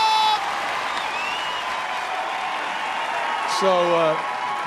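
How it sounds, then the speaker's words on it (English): An audience at a stand-up comedy show applauds steadily for comedian Daz Bishop, a full, even wash of clapping with a brief whistle-like tone near the end. "Please give a huge round of applause."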